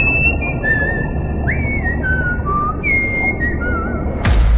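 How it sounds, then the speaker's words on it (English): Eerie wavering whistles from an underwater volcano glide up and down in pitch over a deep, constant rumble, ending with a sudden burst of noise. "its weird whistling has left many experts scratching their heads"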